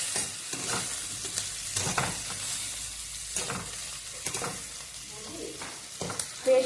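Spice paste frying and being stirred in a pan, a steady broadband sizzle broken by repeated scraping strokes of a spatula, close and moderately loud with no talk.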